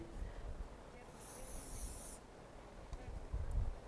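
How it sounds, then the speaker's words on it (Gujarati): Hair holding spray is sprayed onto hair extensions in one steady hissing burst of about a second, close but soft in a quiet room, with light handling noises after it. "Holding spray."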